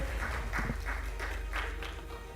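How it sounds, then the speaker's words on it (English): An audience at a Dubai internet conference applauds an award winner, a low, steady wash of clapping with faint rhythmic pulses, heard from a distance under a constant room hum. "Please keep the noise going, keep the applause going for John Risk Golding"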